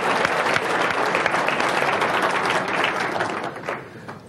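Audience applause at a 1993 Apple User Group presentation, a dense, steady wash of many hands clapping at close range that holds strong throughout before tapering off near the end.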